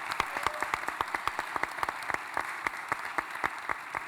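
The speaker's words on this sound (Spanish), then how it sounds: "Un aplauso para Paul Leduc," An audience at a film festival panel applauds Paul Leduc with a lively scatter of individual claps, sharp and distinct rather than a dense roar, keeping up a steady pace throughout.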